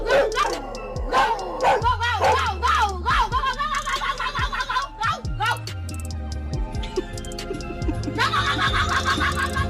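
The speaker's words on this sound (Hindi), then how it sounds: "घर के अंदर बंधा ये डॉग इन्हें देखकर बड़े ही जोरों से भौंकने लगता है।" A dog tied up inside a house barks loudly and repeatedly in rapid bursts, mixed with yelping and a whinny-like cry, while music or voices run underneath.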